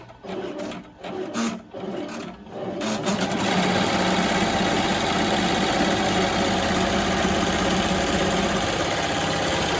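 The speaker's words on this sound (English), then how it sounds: "what that's going to do is sew down the fabric" Melco embroidery machine sewing down fabric: a few separate stitching bursts, then a loud continuous rapid mechanical chatter of the needle running steadily, close up and without speech.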